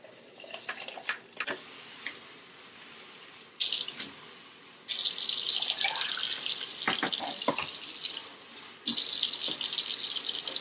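Jasmine rice soaking water is poured into a container in uneven splashy bursts, loud and close, with a steady hiss of running liquid broken by brief pauses.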